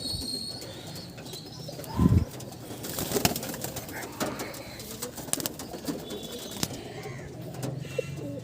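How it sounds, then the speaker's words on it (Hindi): Pigeons of the Kalank breed coo softly and repeatedly at close range, low throaty calls with occasional wing flaps, someone talking intermittently among the birds. "ये कलंक ब्रीड का कबूतर है एक"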